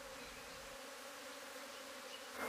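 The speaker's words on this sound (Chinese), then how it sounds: "过千只蜜蜂满天飞，啲工蜂就会跟住只蜂后去另一个地方筑巢" A swarm of more than a thousand honeybees leaving the hive with their queen, a dense steady buzzing drone that holds at an even level throughout and swells a little louder at the very end.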